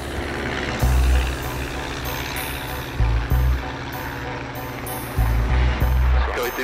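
A training aircraft accelerates down the runway for takeoff, a steady engine and propeller drone filling the cabin, with several louder low bursts and faint high tones over a pilot talking throughout.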